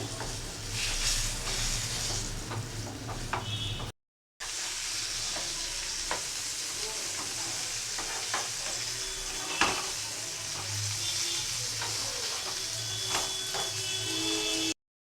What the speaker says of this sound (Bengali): আস্তে আস্তে করে ভেজে নেব